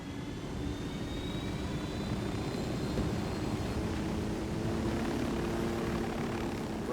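Aircraft engine in Ghost Recon Wildlands, a steady loud drone with a whining propeller-like hum holding evenly throughout, no talk.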